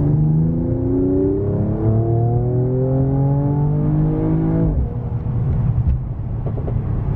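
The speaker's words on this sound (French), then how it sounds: "Vous avez entendu le retour d'échappement, c'est vraiment assez extraordinaire." A Mercedes CLS 53 AMG accelerates hard, its exhaust note climbing steadily in pitch through the revs before a brief shift and a rumbling, crackling return as the engine settles, loud and close throughout.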